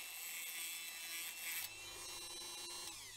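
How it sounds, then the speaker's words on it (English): A Dremel rotary tool grinds away the metal edge of an axle on a Matchbox No.44 Rolls Royce Silver Cloud toy car during restoration, a faint, steady high-pitched whine with a slight shift in tone midway. "I just take my Dremel and I take the little metal edge of the axle"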